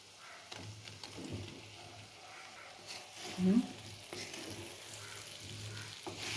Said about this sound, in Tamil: இப்போ நான் வேக வச்சு கட் பண்ணி வச்சுருக்கிற உருளைக்கிழையும் நம்ம அது கூட சேர்த்துக்கலாம்